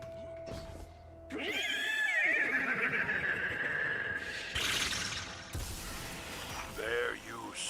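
A horse whinnies loudly in the video game Destiny 2, a long shrill neigh followed by shorter snorts and whinnies, mixed with mechanical clicking and game effects.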